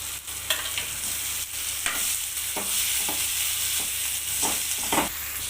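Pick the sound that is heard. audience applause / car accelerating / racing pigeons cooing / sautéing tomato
sautéing tomato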